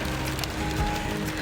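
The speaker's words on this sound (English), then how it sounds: "It's hailstoning and raining outside." Hail and rain falling outside in Manchester, a dense, even hiss of pattering drops heard from indoors, steady and moderately loud throughout with faint low thumps underneath.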